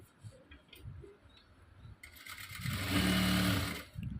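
A sewing machine stitches a blouse sleeve onto the blouse body, starting halfway through with a rising, fast mechanical whir close by. A few faint taps and handling noises come before it.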